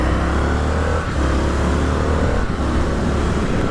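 Steady engine drone and exhaust rumble from an Indian FTR 1200 motorcycle at cruising speed, loud and close throughout with only slight dips in the throttle.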